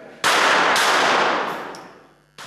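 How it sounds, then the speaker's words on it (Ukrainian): A loud burst of gunfire from combat weapons at a military sports competition, with rapid shots echoing and fading over about two seconds before another shot starts. "Стріляли з бойової зброї"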